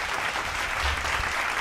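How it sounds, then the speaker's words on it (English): A boardroom audience claps politely, a steady wash of many hands applauding at moderate volume for the full short stretch. "golf clapping"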